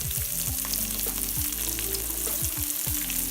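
Garlic and onion fry in hot oil in a pan, making a loud, dense, continuous sizzle and crackle close up, with a few low scraping stirs mixed in and no talking.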